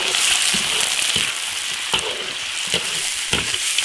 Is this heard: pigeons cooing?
no